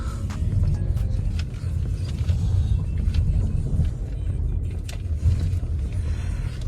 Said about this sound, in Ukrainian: І знову автомобіль їде, хочемо розвертатися.